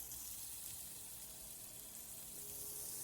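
Steaks sizzle in a hot pan, a soft continuous frying hiss that stays even and fairly quiet throughout, with no voices over it.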